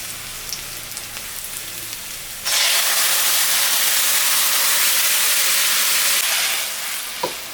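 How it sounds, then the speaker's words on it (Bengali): Onions and spices hitting hot oil while tempering a Bengali rohu fish curry with mixed vegetables, a sudden loud hissing sizzle that stays strong and steady, after quieter kitchen sounds. "পেঁয়াজটা ভাজা হয়ে গেছে, আমি এখন ঝোলটা সম্বরা দিব।"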